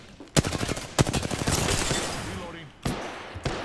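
Rapid bursts of automatic weapon fire in Apex Legends, sharp close volleys with distinct shot pulses, followed by a couple of isolated single shots, with talk over part of it.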